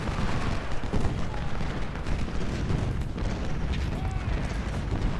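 Rumbling volleys of musket fire and artillery booms from a Civil War battle at Shiloh in Ultimate General: Civil War, dense and continuous, somewhat distant and low, with no clear speech over it.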